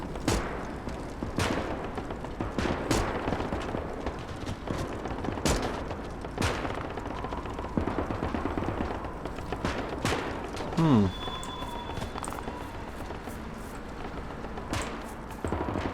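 Gunfire in the WW2 Eastern Front game Gates of Hell around a German command trench, with scattered distant rifle shots and short bursts cracking over a steady battlefield rumble, spaced irregularly through the stretch.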